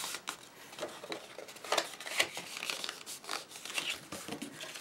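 Scored paper is folded by hand for a tea bag and chocolate holder, giving close, dry crinkles and soft scraping creases that come in irregular short bursts.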